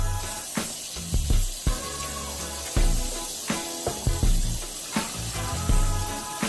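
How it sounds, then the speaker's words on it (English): Water splashes and trickles into red beans in a slow cooker, with a run of close, uneven pours and spatters that swell and ease in short bursts, no voices. "So now I'm going to add some water."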